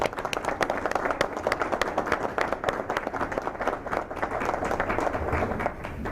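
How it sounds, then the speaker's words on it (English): A school board meeting audience claps for an elementary school principal and school family, a moderately sized group giving brisk, distinct individual claps in an uneven, busy rhythm that continues steadily throughout, without talking. "Let's all give a round of applause to Dr. Sean Haggerty and Croswell Drive Elementary School family."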